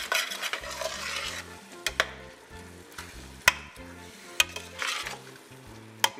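Jamaican beef patty filling of minced beef with scallions, onions, thyme and scotch bonnet sizzling in a pot, a close steady crackle broken by several sharp spoon knocks and scrapes against the metal.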